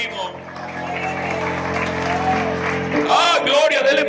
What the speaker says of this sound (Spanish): Dele más fuerte el aplauso al Señor